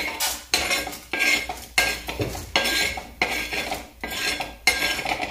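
Metal utensil scraping and stirring lentils as they dry-roast in a pan, with repeated rhythmic strokes and a faint sizzle underneath, close and steady.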